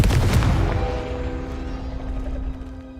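The Confringo fire spell goes off in the video game Hogwarts Legacy, a loud booming blast that fades into a ringing, rumbling tail over about three seconds.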